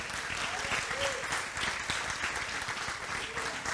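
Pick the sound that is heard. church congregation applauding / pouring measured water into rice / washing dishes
church congregation applauding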